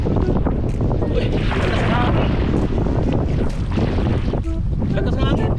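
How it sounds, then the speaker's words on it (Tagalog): Strong wind buffets the microphone in a constant roar, with voices talking and calling out intermittently over it. "lakas ng hangin."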